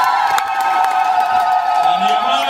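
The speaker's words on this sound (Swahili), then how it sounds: "naomba jipigieni makofi mengi sana" A crowd of residents at a public water-project event in Momba district cheers and claps together, lively whoops and shouts riding over a continuous bed of applause.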